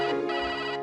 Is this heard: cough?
no